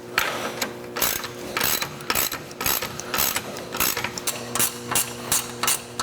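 A ratchet wrench tightens bolts while installing a Firestone air bag suspension kit, giving bursts of loud, close clicking strokes repeated steadily with brief pauses between them, and no talking.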